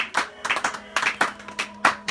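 Church congregation clapping in praise, a series of sharp, close hand claps in an uneven rhythm with short gaps, some claps bunched in quick pairs, over a faint low hum.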